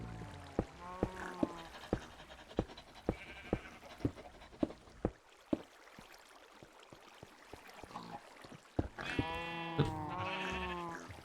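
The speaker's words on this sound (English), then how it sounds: "I think most of the disgruntled sounds are sniffers." Disgruntled grunting bleats from sniffer mobs in Minecraft, a run of short sharp calls repeating at a steady pace, then a louder cluster of overlapping bleats near the end, with no talking.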